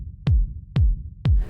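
Three evenly spaced 909 kick drum hits from the Ableton core kit, each a punchy click followed by a deep, falling boom, loud and dry with no other sounds.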